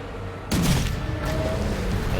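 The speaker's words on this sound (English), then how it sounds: "Right click brings up the forward deck cannon." A forward deck cannon on a ship fires in the game Risen 3: Titan Lords, a sudden heavy boom followed by a rumbling, crackling tail against a steady background of wind and sea.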